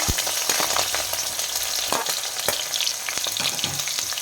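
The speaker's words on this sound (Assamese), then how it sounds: "এতিয়া ইয়াতে পিঁয়াজ আৰু আদা নহৰু খুন্দি লোৱা দিম" Onion, ginger and garlic paste hits hot mustard oil in a kadai for crab fry, giving a loud, steady sizzle with crackling pops throughout and a few stirring scrapes.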